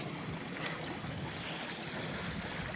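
Water gushes through a cleared blockage in a farm dam, a dense, steady broadband rush close by with no pauses and no voices.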